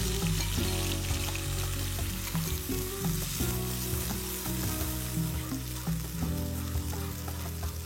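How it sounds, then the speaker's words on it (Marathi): Freshly ground Kolhapuri masala paste sizzles in three to four tablespoons of hot oil, a steady frying hiss heard under background music. "तेल आपलं छान गरम झालंय. आता आपण हा जो मसाला वाटलाय ना तो टाकूया."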